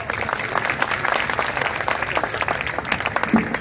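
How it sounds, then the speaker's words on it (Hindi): An audience at a speech event breaks into loud sustained applause, dense clapping filling the whole stretch evenly with a faint crowd murmur underneath. "जोरदार तालियों के साथ अभिनंदन"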